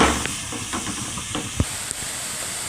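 Grated bottle gourd roasting in ghee for dudhi halwa, a steady soft hiss and sizzle with faint scraping stirs and a sharp clink near the middle.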